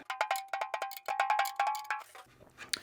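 A freshly tuned drum with new heads struck over and over in quick rhythmic bursts, each hit ringing briefly with a bright, bell-like pitch, then a few softer taps.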